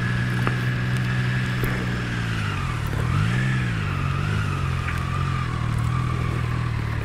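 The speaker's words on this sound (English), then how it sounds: "I would just love to hear that triple inline sound a little bit louder" Triumph Trident 660 inline-triple motorcycle engine running steadily and close, with a smooth drone that rises and dips in a brief rev around the middle before settling back to a constant hum.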